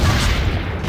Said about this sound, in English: Okay, use cannon.